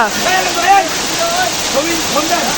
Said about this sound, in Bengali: কেমন লাগতেছে ভাই ঝর্ণাটা